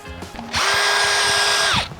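A power drill whirs steadily and loud for about a second and a half, winding down at the end, close by during work on an RV screen door.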